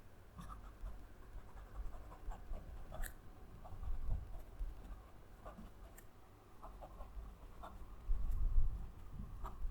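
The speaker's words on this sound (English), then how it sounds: "I love writing with this pen, it's just so comfortable, and the nib got beautiful feedback on it" A Pilot fountain pen nib scratches faintly across paper in short strokes and taps, quiet and close, with small pauses between the marks and no talk.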